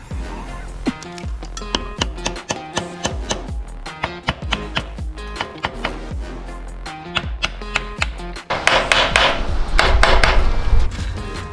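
Sharp metallic hammer strikes on Dnipro MT motorcycle engine parts ring out in an irregular series, some rapid and some spaced, followed by a burst of louder clattering noise near the end.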